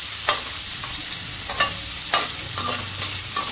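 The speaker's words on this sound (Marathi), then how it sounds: "थोडं क्रिस्पी होईल असं मी हे तेलामध्ये फ्राय करते।" Potatoes for chilli potato fry in hot oil on high gas, giving a steady close sizzle broken by a few clinks and scrapes of a spoon being stirred.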